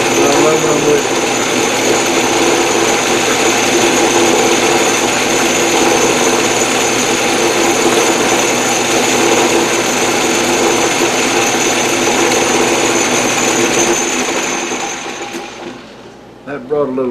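A power tool grinds an aluminum knob with a loud, continuous high-pitched whine that holds steady before spinning down near the end, with talk underneath.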